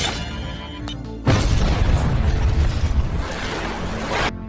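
A car bomb explodes in a film scene, a sudden loud, heavy blast with a rumbling roar and debris that sustains for about three seconds before cutting off, preceded by a tense musical tone.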